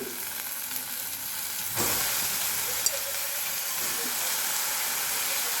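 Fenugreek leaves and green chillies fry in a pan with a steady, close sizzle and hiss, which swells louder partway through as the greens are stirred.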